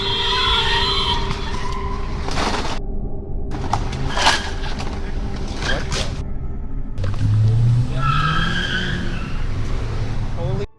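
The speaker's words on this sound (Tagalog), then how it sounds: "isang sasakyan ang bumangga sa isa pa at ang nakabangga ay agad na tumakas" Car crash on Hoover Street in Los Angeles, a busy and dangerous street: loud engine noise and sharp impact bursts, then a rising tire skid squeal near the end, with talking mixed in.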